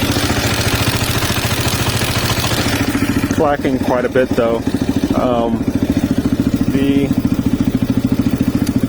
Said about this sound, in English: I can hear the engine clacking